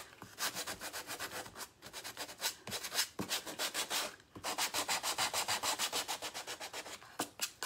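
Sandpaper worked back and forth over a small wooden sled, making a close, steady run of rapid scraping strokes with a few brief pauses between passes, and no talking.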